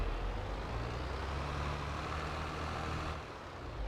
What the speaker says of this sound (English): So again, we'll pull our tractor up